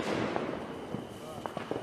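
Fireworks go off in a large backyard display, several scattered pops and crackles at a distance beneath steady crowd noise and people talking.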